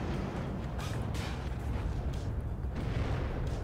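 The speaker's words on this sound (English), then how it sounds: "Lots of fire support coming in." Artillery fire support in the video game WARNO, a steady low rumble of distant shelling with a few soft booms rolling through, faint and continuous with no talking.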